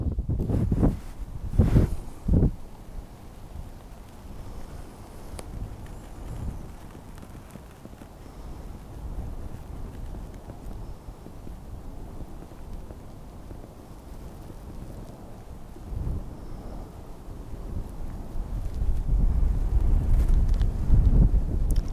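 Wind gusting across an exposed moorland causeway near a flooded valley, rumbling into the microphone in strong buffets early on, easing in the middle and building again to a heavy roar at the end.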